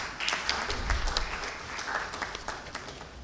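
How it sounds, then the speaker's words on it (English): Audience applause at a national conference on semiconductors in India, steady clapping from a large crowd filling the room throughout, moderately loud with no speech. "Can we have a huge round of applause?"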